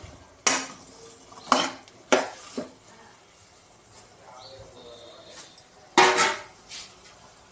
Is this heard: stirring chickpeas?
yes